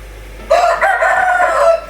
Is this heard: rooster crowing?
yes